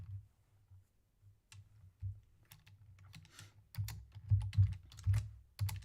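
Typing on a computer keyboard, scattered soft keystrokes at first, then a denser run of quick clicking taps that grows louder toward the end, close and alone with no talking.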